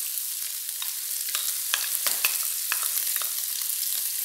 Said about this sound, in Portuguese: E vamos deixar fritar até começar a ficar douradinho.